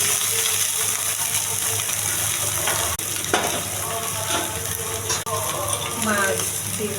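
Water or gravy going into a pan of fried fish with bean and potato for a Bengali fish curry, a continuous close sizzle and bubbling with occasional clinks and stirring scrapes, no speech.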